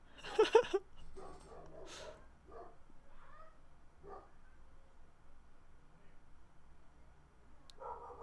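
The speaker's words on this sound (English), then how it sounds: "Those are some angry dogs." Several agitated dogs bark in short bursts at a distance, loudest near the start, with scattered yelps over a low ambient rumble and a brief later burst.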